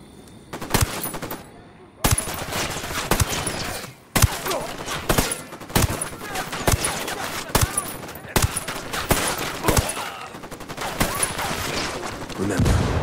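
Automatic rifle fire in the tactical shooter Ghost Recon Wildlands, with rapid bursts and single cracks repeating steadily, loud and close, broken by brief pauses.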